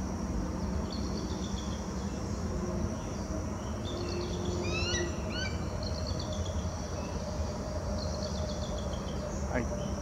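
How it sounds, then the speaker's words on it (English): A bald eagle calls from a bare branch outdoors, giving a few faint, high, rapid chirping notes midway through. The calls sound distant against a steady hiss of insects and background noise. "And that bald eagle is calling."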